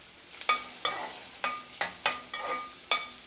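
Slit green chillies frying and being stirred in a pan for South Indian beans poriyal, with sharp clatters of a spoon on the pan, about seven in a row, over a steady, soft sizzle.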